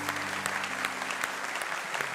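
A Catholic priest claps by himself during a sermon on the anointing of the sick. The clapping is a steady, soft patter of hand claps over a low background hum.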